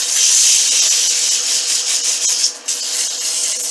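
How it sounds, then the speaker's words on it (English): Sandpaper rubs against a red oak spindle turning on a wood lathe, a steady, close hissing scrape with slight waves in loudness and a brief dip as pressure shifts. "I got to do a little bit of sanding here"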